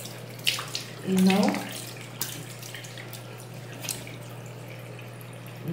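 Water runs from a tap while mascara-coated eyelashes are wetted, a soft continuous splash under a steady hum, with someone speaking briefly near the start.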